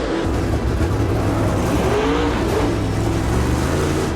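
Dirt track race car roaring through Sunoco qualifying at Senoia during the Peach State Classic, a loud, steady engine drone with rising revs and a sliding tire hiss, close and unbroken.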